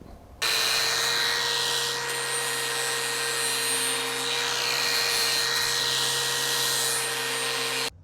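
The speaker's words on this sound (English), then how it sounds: "let's switch over to a flap disc here and we'll go all the way around and dress that up" A Litheli U20 cordless angle grinder fitted with a flap disc runs close by in a steady, loud, high-pitched whine that holds for about seven seconds before cutting off, with no talking.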